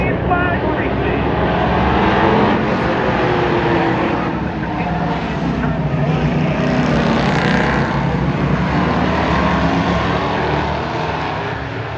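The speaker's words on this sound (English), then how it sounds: "It's green flag racing." Pro V8 Sportsman race cars roar around the oval at Monadnock Speedway during a heat race, a loud continuous engine drone that swells and fades as the pack passes, with an excited commentator talking over it.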